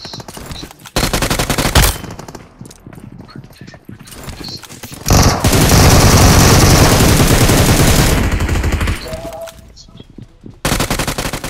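Gunfire in the mobile battle royale game BGMI / PUBG Mobile, with loud bursts of automatic fire and a long sustained volley between quieter gaps, close and harsh.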